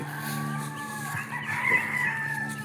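A gamecock crows in one drawn-out call close by, over a low steady background hum.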